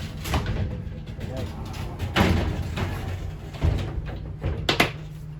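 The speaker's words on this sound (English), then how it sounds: "The doors just slide." A sliding shower door in a 2021 Wildwood 353FLFB fiberglass travel trailer slides along its track several times, with rattling bumps and a few sharp knocks as it moves and stops.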